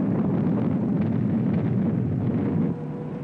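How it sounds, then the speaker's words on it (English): A continuous, heavy rumble of naval gunfire explosions on a beach, booming blasts rolling without clear breaks before easing slightly toward the end. "Naval gunfire support blasts enemy positions on the beach in preparation for the landing."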